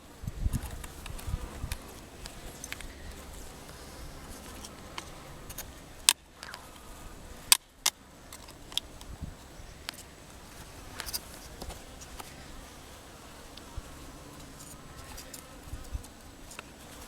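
Honey bees hum in a soft, steady drone while a bee package is installed into a hive, with a few sharp knocks and clatters from handling the wooden box.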